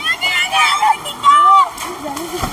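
Rushing, splashing water runs steadily at Pulimedu waterfall near Vellore, beneath close voices, with the flow swelling and easing as people talk over it.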